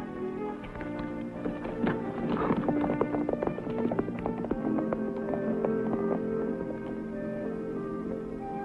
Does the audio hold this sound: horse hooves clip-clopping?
yes